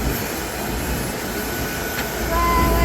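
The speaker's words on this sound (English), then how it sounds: "Yeah, it's the engine." Jet2 airliner engines on a flight from Tenerife, heard from inside the cabin as a loud, steady, broadband roar that swells slightly toward the end.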